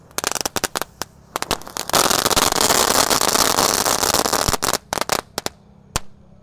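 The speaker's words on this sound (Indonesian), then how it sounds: "Lanjut yang kita nyalakan malam ini ada mercon telur Snow Pratek." A string of small egg firecrackers pops in rapid bursts at night, crackling densely for a few seconds, then thinning into scattered sharp bangs that trail off.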